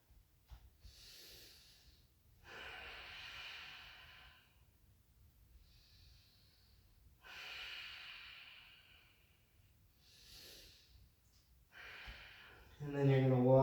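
Steady, audible breathing during a gentle yoga flow: slow, close inhales and exhales repeating in an even rhythm, with a voice briefly speaking at the end.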